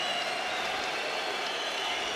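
Crowd noise at a boxing event, a steady wash of cheering and applause from a large audience, continuous and fairly distant throughout.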